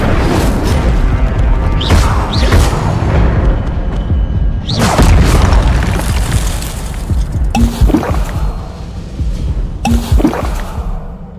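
A fire spell is cast in the Hogwarts Legacy video game, landing as several loud, whooshing bursts with booming impacts spaced a few seconds apart over a constant rumbling game soundtrack.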